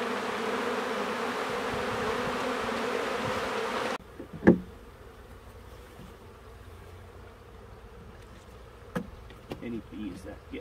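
Honey bees buzzing as they are shaken off hive frames from a wine barrel hive, a dense steady hum for the first four seconds that drops to a softer background drone with a few sharp knocks.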